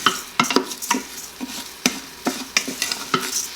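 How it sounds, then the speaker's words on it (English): Rice browns with softened, sautéed onion in an Instant Pot, with a sizzling hiss running under regular scraping strokes of a stirring spoon, about one every half second, close and fairly loud. "we're going to add the rice, and we're going to let it brown for a minute"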